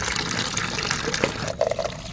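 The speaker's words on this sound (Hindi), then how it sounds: "अब इसमें हम 10 मग पानी मिलाएंगे इस तरह से।" Water pours from a mug into a bucket of fertilizer for a holy basil plant, a close, steady gushing splash that ends in a few bubbling glugs.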